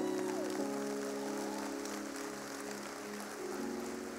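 A church congregation claps along during a worship service, a continuous patter of many hands over sustained musical tones, steady and fairly loud throughout.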